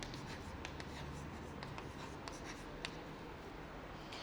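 A pen or pencil scratches quietly and close up as numbers are written by hand during a maths lesson, in short strokes and taps with no talking.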